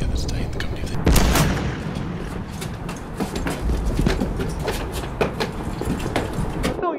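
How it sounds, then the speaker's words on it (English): Heavy booming blasts of artillery fire in Battlefield, irregular and repeated, with sharp impacts scattered over a dense rumbling background. "Here comes the artillery."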